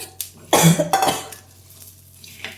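Spicy puffed rice snack made with leftover rice being stirred in a pan, giving a couple of loud scraping, rustling bursts of metal against the pan, then quieter, softer stirring sounds.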